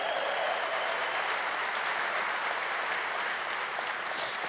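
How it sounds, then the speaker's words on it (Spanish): A church congregation applauds in a sustained, even burst of clapping that fills the room from start to finish. "Aplaude a su nombre para siempre."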